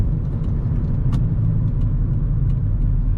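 Hyundai that sat for years, driven with a worn wheel bearing, giving a loud, continuous low rumble and road drone with faint intermittent ticks over it.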